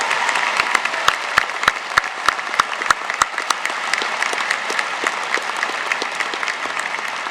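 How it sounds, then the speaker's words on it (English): Applause for graduating seniors at a high school commencement ceremony: a large crowd claps steadily throughout, with a few sharp, louder claps standing out early on. "Let's give these seniors a round of applause for their involvement and effort."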